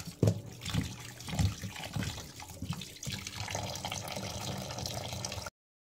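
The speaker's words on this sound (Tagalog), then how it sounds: "Natin pong hugasan na po ang karning baboy." Raw pork rinsed under a running kitchen tap while cooking adobo: a steady stream of water splashes and gurgles as the meat is handled, with heavier thuds early on, running continuously for about five seconds.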